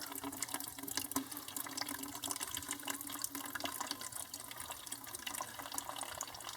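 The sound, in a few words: excess water being poured out of cactus seed container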